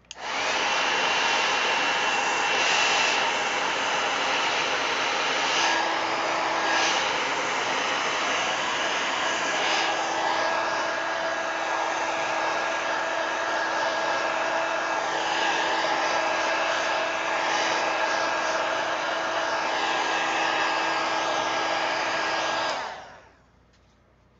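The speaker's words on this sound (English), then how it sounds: "Let me hit it with the heat gun before I get it on everything." A heat gun blows hot air to dry paint on a napkin journal page, a steady loud whooshing drone running continuously for over twenty seconds before cutting off.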